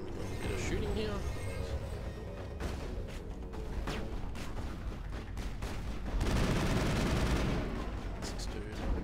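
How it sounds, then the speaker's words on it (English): Rapid gunfire in the video game Mass Effect crackles in dense bursts over mechanical clatter and game effects, loud and sustained, with a heavier volley near the end. "looks like we're going to be doing a bit of shooting here"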